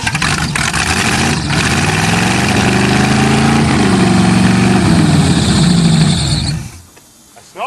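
An old Chevy car engine idles steadily and loud after a cold start, holding a rough, even rumble for about six seconds before cutting off abruptly.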